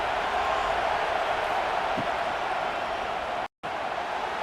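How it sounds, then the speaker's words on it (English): A stadium crowd roars at a Georgia Bulldogs versus Ohio State Buckeyes game in College Football 26, a steady broad wash of noise at moderate level that drops out briefly near the end. "It's early, but this crowd is fired up. Listen to this noise here."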